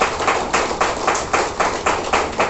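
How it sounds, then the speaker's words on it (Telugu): An audience at a Hanuma Pyramid gathering claps in steady rhythmic unison, about two claps per second, loud and close with no voices over it. "అందరూ క్లాప్స్ ఇంకా గట్టిగా కొట్టండి."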